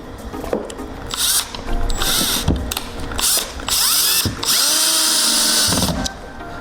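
Power drill driving a screw into a wall stud while mounting a 75-inch TV, loud close whirring bursts with ratcheting clicks and brief pauses between pulls of the trigger.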